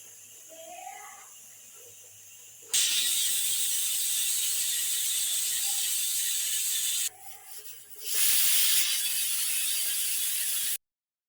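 A pressure cooker on a stove, cooking baby potatoes with salt, lets out a loud sustained hiss that runs for several seconds, breaks off briefly, then resumes before cutting out.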